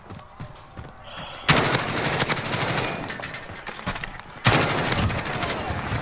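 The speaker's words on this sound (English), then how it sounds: "I've been sniped at." Gunfire in the video game Warzone cracks out in two loud, sharp bursts with scattered shots in between, close and harsh over a noisy battle background, with voices talking.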